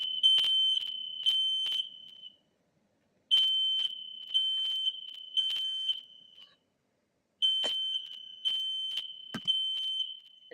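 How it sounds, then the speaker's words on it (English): A smoke-style fire alarm shrieks in loud, piercing bursts of rapid beeps, grouped in sets of three with short silent gaps between, repeating steadily and alone with no voices. "And then you get a fire alarm."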